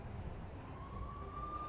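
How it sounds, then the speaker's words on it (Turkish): Police sirens wail in the Max Payne video game, with the NYPD closing in on a New York slum hotel; a single rising siren tone climbs steadily over a low, rumbling background, fairly faint and steady. "I could hear the sirens. Their wail was a crescendo."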